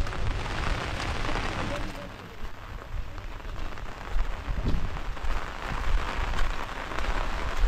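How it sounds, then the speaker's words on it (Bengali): Heavy rain pours down with strong wind during flooding beside the swollen Buriganga river, a dense, steady hiss of drops on surfaces with gusty low rumble, loud and continuous throughout. "প্রচণ্ড বাতাস বইছে এবং বৃষ্টিও হচ্ছে"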